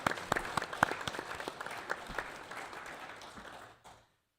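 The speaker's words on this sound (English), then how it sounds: "Let's give them a round of applause for their great work." A crowd at a school board meeting applauds with steady, dense clapping that gradually thins out and stops abruptly near the end.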